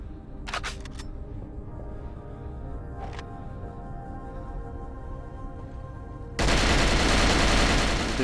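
An AK rifle fires in the video game Cold Fear: a few sharp isolated cracks over a steady low rumble, then a loud, dense burst of sustained automatic fire near the end.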